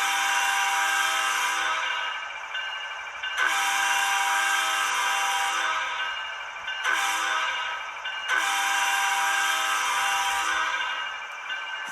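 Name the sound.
model locomotive DCC sound air horn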